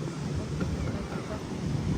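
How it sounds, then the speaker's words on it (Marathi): Sea waves roll steadily onto Nagaon beach in Alibag, a broad, constant wash of surf mixed with wind buffeting the microphone, with no voices. "लाटा बघा आज किती आल्यात लाटा."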